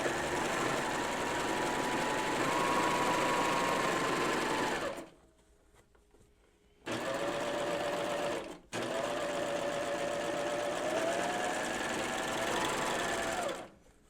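A serger sewing machine stitches the seam of an apron in three steady, loud, close runs of continuous whirring motor drone, broken by two short pauses where the machine stops.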